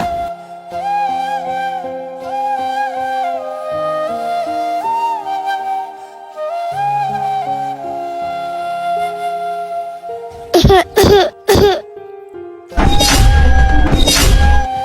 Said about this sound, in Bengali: রুমের ভিতর কাশি দিল কে